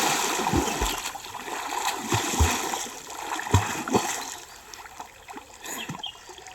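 Water splashing in the Valapattanam river as someone swims and bathes, with irregular close splashes and sloshes over a steady flowing-water background, no talk.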